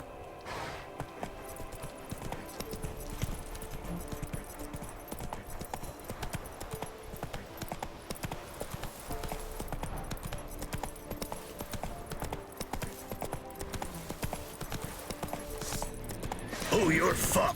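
Horse hooves clip-clop steadily at a brisk pace in The Witcher 3, a continuous rhythmic trotting that runs throughout under game music and ambient sound, rising a little louder near the end.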